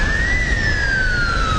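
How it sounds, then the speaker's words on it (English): A strange, unfamiliar siren wails continuously from outdoors, a single steady tone gliding slowly downward in pitch over a low rumble of distant traffic. "Some kind of strange siren going on over there."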